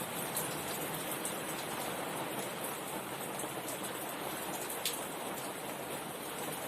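Steady rain pours down outdoors on a monsoon day, a dense, even hiss of drops hitting surfaces with occasional louder splashes, continuous and fairly close with no voices.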